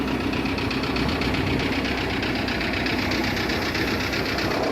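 A ZIL truck engine runs steadily after a hard start in -10 frost, a loud continuous rumble with a fast, even knocking pulse throughout and no voices.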